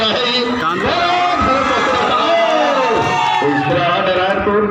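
Spectator crowd at a kabaddi final between Kanker and Narayanpur, a dense roar of cheering and shouting voices with a commentator talking over it continuously.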